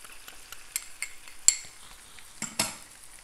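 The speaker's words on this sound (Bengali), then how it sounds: "একটু মশলাটা একটু কষিয়ে নিতে হবে।" Spices for mashkalai daal (ginger paste, garlic paste, cumin, chili and coriander powder) are stirred and fried in a pan, with a soft sizzle and a few scrapes and clinks of a utensil against the pan, and no one speaking.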